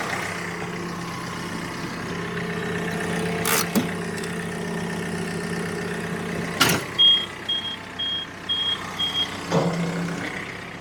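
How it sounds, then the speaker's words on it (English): A tractor idles while creeping very slowly in low range under a remote drive attachment, giving a steady engine drone with a few sharp clunks and a run of short, evenly spaced beeps. "now I can stand right here and bring the entire tractor forward or backwards"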